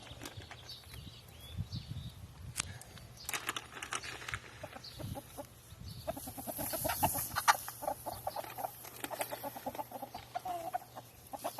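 Several fancy chickens cluck and murmur nearby at a low level, with scattered pecking and scratching sounds and a faint background hum.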